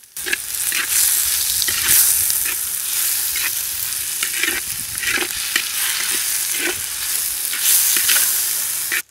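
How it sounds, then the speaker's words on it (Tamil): Onion and chopped tomato sauté in a hot pan for a fig stir-fry, with a steady close sizzle and repeated scraping stirs of a spoon throughout, with no talking. "வெங்காயம் நல்லா வணங்கினதுக்கு அப்புறம் அறுத்து வச்சிருந்த தக்காளி அது கூட சேர்த்து நல்லா வணக்கிக்கலாம்"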